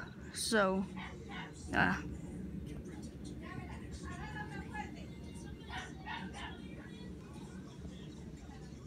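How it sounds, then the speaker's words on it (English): A dog at home lets out two quick, high yipping barks early on, then stays quiet beneath steady background noise as a person speaks briefly. "I apologize if you guys hear my dog barking"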